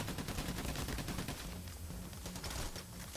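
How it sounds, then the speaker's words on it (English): Gunfire in the Payday The Heist video game, dense bursts of automatic fire and overlapping shots, loud and close, continuing without pause. "Random shooting time."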